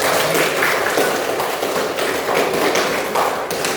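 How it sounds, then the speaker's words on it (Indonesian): Applause from a classroom audience, a dense, steady patter of many hands clapping together at close range throughout, with no break. "Oke, kasih aplaus buat kita semua."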